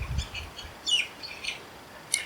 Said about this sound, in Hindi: क्या ये चिड़िया गा रही हैं